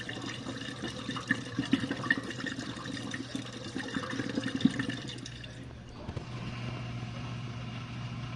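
Steady rushing and sloshing of water inside a GE dishwasher during a rinse cycle, a continuous moderate wash that shifts and drops in character near the end, with faint indoor background and no clear talk.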